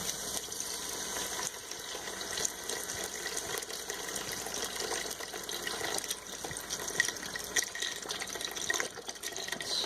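Beef stock pours steadily from a 32-ounce box into a pot, a continuous close splashing gush of liquid that runs unbroken throughout.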